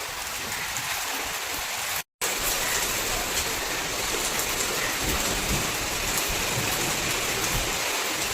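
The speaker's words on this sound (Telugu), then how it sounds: "ఇదిగోండి వర్షం అయితే ఇలా పడుతుంది చూడండి" Steady rain falls close by near the doorstep of a house, a dense, continuous hiss of drops hitting the ground that stops for a moment and then carries on.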